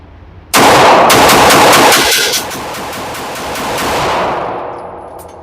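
A Sig P320 pistol is emptied in a fast mag dump on a shooting range, the shots running together into a loud, rapid string that stops abruptly and leaves a long ringing echo.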